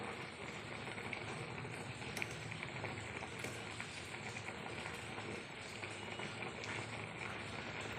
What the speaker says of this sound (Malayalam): നന്നായിട്ടൊന്ന് തിളക്കട്ടെ